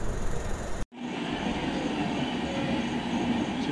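A night express train at Chitpur station in Kolkata, bound for Varanasi, gives off a steady, loud rumble of rolling rail cars after a sudden brief break, continuing unbroken with no voices.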